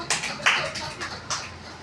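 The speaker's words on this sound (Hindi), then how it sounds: "ताली हो जाओ प्रांजल के लिए" Children clap for a classmate in a classroom, a few scattered bursts of hand claps that rise and fade in under two seconds, fairly close and mixed with some voices.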